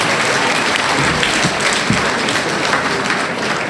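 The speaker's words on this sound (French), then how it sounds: "je vous demande de les applaudir très fort" Loud, sustained audience applause fills a hall at the 25th World Chocolate Fair, honoring the heads of the Coffee-Cocoa Council, a dense steady roar of clapping close by with no speech over it.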